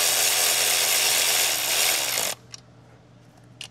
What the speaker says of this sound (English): We're gonna go ahead and get this screwed in there.